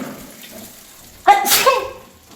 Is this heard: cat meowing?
no